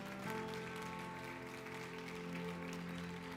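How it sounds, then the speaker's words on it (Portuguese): Church congregation applauding during a sermon, a soft, distant wash of clapping under a steady tonal hum, continuous and even throughout. "Você pode dar um aplauso ao Senhor por isso, irmão?"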